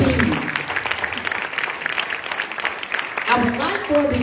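An audience at a Freedom Fund banquet in Drew County applauds, a moderate wash of clapping from the crowd that swells near the end.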